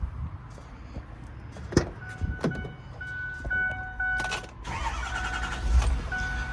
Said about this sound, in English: Actually, I'm gonna go ahead and start the truck.